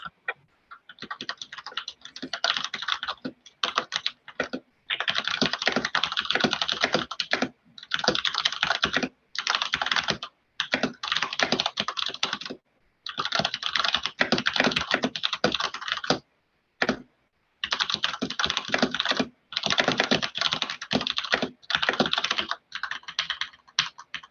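Rapid, continuous clacking of computer keys, typing in quick bursts with brief pauses, close and clear with no talking.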